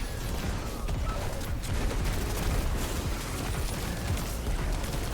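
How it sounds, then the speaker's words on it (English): A Dragon's Breath exotic weapon firing in a video game gives a continuous, dense roar of fiery blasts and crackling explosions that stays loud and unbroken throughout. "I'm just gonna throw a Dragon's Breath down there in the pit"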